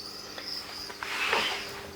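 Crickets in egg-laying breeding boxes, second generation, chirping in a steady high trill over a faint constant hiss, with no voices present.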